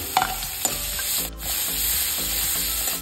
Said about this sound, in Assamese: ভজা তেলতে পিঁয়াজ এটা দি দিছোঁ